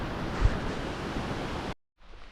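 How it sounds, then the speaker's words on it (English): Steady rain falls in a Guatemalan jungle at Semuc Champey during rainy season, heard from a road: a dense, even hiss that cuts out abruptly, then returns more faintly after a brief silence. "Well, it's raining,"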